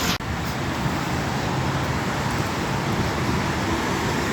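Dense city street traffic rushes by in a continuous broadband roar of passing cars, loud and steady throughout, with no talking heard.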